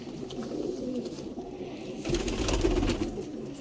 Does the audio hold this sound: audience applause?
no